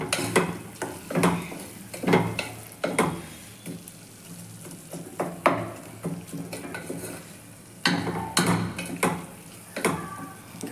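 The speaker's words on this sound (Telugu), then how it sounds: "కాసేపు మగ్గనిద్దాము. ఉప్పు కారం ముక్కలకు పట్టాలి కదా టమోటా ముక్కలకి." Chopped tomato pieces cook in a pan with salt and chili powder for tomato rice, stirred at intervals with repeated scraping and clinking of a utensil against the pan over a soft background sizzle, close and alone.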